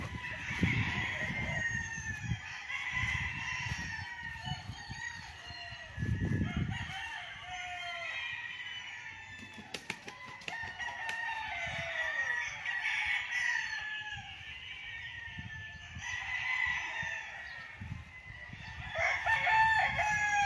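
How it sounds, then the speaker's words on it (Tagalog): Roosters crow repeatedly among clucking chickens on a fenced farm lot in Liliw, Laguna, the calls overlapping near and far across an open rural setting with a low outdoor background. "Ganda ng mga manok."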